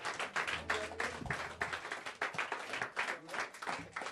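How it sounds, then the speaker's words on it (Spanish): A church congregation applauds, a dense wash of many hands clapping continuously at moderate distance, fairly quiet overall. "Dale un fuerte aplauso"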